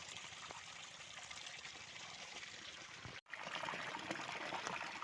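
Irrigation water running through a cumin field on a farm, a steady close trickling and pouring flow with a brief dropout partway, then continuing slightly louder.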